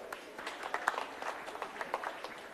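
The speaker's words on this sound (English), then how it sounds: "Clap for yourselves." Scattered clapping from an audience at a Jamhuri Day celebration in Ontario, Canada, fairly faint and somewhat distant, with irregular individual claps over a soft background murmur.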